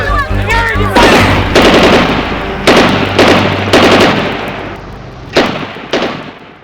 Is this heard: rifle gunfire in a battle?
yes